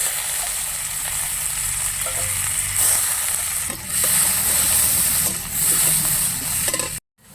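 Loud, close sizzle of chopped onion, black cumin seeds and dried red chilli frying in hot oil, with a few stirring scrapes and surges in the crackle before it abruptly stops.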